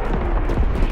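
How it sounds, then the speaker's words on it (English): Incendiary bomb dropping in a Call of Duty WWII battle, a dense continuous rumbling roar with deep booming low end and muffled blast-like swells, loud and sustained with no clear separate impacts. "Firebombing run awaiting target. Ready to drop incendiary."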